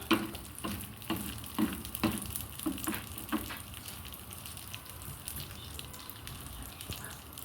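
Ingredients toast and sizzle in a pan with a soft, continuous frying hiss, broken early on by several sharp stirring knocks against the pan that thin out later, quiet and close with no talk.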